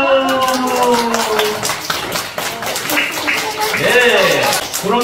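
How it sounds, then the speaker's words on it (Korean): Children and adults clap together in a lively burst at a daycare puppet show of a Korean folk tale, the applause blending with a voice and sliding musical tones. "박수"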